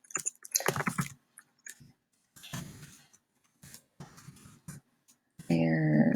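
Keys clatter on a computer keyboard while a word is entered into a Google Forms quiz, with irregular bursts of close, crisp tapping separated by short pauses, ending with a brief tonal chime.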